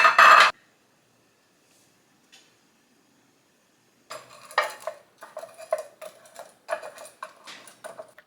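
Egg bite mixture being poured and spooned into metal muffin tins, opening with a sharp clatter, then a silent pause and a run of uneven scraping, tapping and clinking of utensils against the tins.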